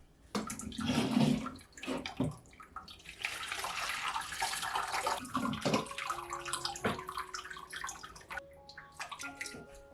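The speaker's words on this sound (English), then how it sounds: "I'm just going to strain the rose petals, through a coffee strainer as well" Rose petal liquid poured through a coffee strainer set in a colander into a pot, a continuous splashing trickle with gurgles, close, ending in a few drips.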